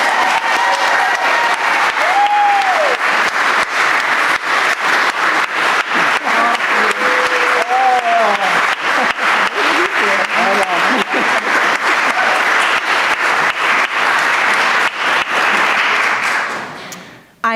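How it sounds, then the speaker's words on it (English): A Sunday church congregation gives a long, loud round of applause, a dense steady clapping that carries on for many seconds with scattered voices and cheers above it before fading out at the end. "Can we give one last round of applause for that?"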